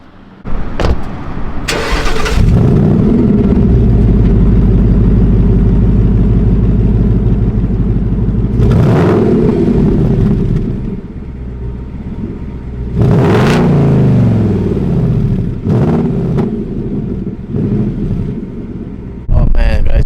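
A Ford Mustang GT with an axle-back exhaust revs hard several times with a deep, throaty exhaust roar, idling loudly between bursts, with wind noise outdoors.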